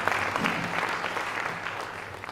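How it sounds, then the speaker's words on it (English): Banquet audience applauding sponsors, a steady, dense wash of many hands clapping that fades slightly toward the end, with no voices over it. "Let's give a round of applause to our folks who helped get this happen tonight."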